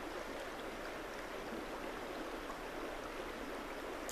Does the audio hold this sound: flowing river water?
yes